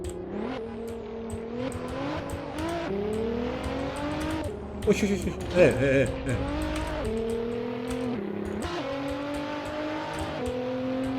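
In the Assetto Corsa racing game, a Nissan GTR Nismo's engine revs up and down repeatedly with a brief squeal of tyres midway, while someone talks excitedly over it.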